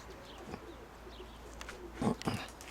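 Pigeons kept in a loft coo softly in a few low bursts, faint against a quiet background hiss.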